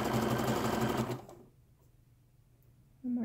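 Sewing machine stitching fabric, a loud, rapid, close mechanical whir for about a second that stops, then after a quiet pause starts up again.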